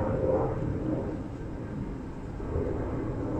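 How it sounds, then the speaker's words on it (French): Airplanes fly overhead, a broad low rumbling roar that holds steady throughout at moderate loudness, heard alone without talk. "qu'est-ce qui me saoule, ces avions"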